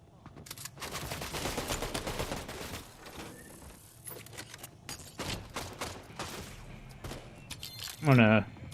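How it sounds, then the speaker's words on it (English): Rapid gunfire from computer-controlled bots in a multiplayer shooter video game, bursts of shots running through most of the stretch, with someone talking over parts of it. "The bots are shooting somebody."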